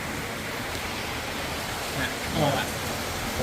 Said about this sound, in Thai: ตอนนี้ฝนตกนะครับ